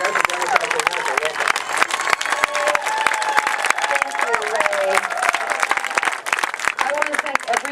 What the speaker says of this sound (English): So let's give a round of applause to Mimi Kennedy